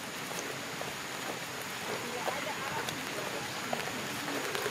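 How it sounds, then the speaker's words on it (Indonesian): Rain falls steadily at Bukit Batok Nature Park, a dense, even hiss of drops all around with a few louder nearby patters, while voices may be faintly present beneath it. "Hujannya tambah loh"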